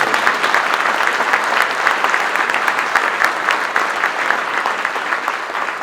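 Sustained applause from a conference audience at a national conservative political gathering, a dense, even wash of clapping hands that holds steady for several seconds without talk.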